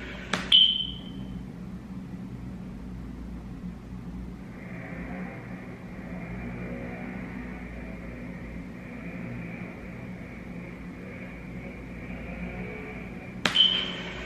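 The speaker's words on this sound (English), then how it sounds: "Change that fucking smoke detector, Chris." Two short, high electronic chirps, one near the start and one near the end, with a steady low hum filling the gap between them.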